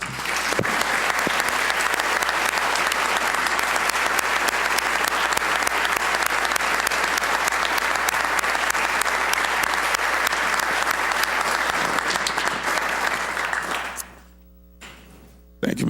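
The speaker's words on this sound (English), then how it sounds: "I hope you will give them one last round of applause" Legislators and guests in the Virginia House chamber give a long, loud, sustained round of applause that fills the room, then cuts off abruptly near the end, leaving a brief quiet.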